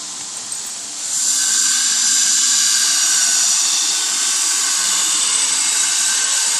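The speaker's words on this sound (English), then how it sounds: "He's sharpening this knife" Steady high-pitched grinding hiss of a very large knife being sharpened, starting after a brief quieter moment and then running continuously and fairly loud without talk.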